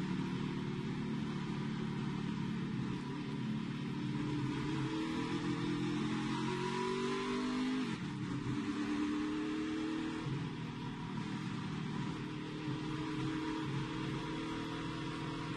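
Onboard a NASCAR Xfinity race car during practice at Watkins Glen, the engine gives a steady, loud, low droning rumble with a faint pitch sweep midway. It fills the whole stretch with no talking.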